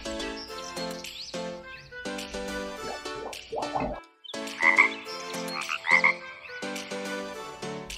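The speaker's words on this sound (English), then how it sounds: "Frog." Toy frog croaking in a few bursts over a bright electronic jingle, with a short pause before two clear croaks in the middle of the tune.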